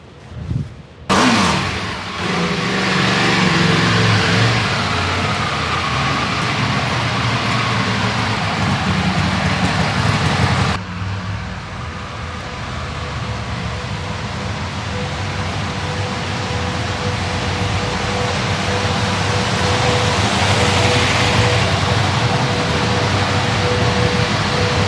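Buell 1190 Hammerhead motorcycle, a full factory custom limited edition, running steadily after a sharp startup burst, a continuous loud mechanical drone with a broad noisy roar and a brief dip partway through, no voices.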